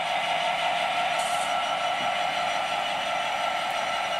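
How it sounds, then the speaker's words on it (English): A top-and-tail model railway train, a Sandyke railhead set, rolls through set-track curved points going from radius 3 to radius 2, giving a steady, continuous rumbling hum that stays even throughout with no voices. "our Sandyke railhead train has gone through absolutely fine"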